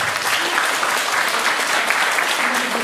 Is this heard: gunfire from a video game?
no